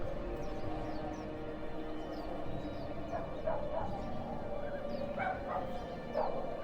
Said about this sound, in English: I like how you can hear the dogs barking.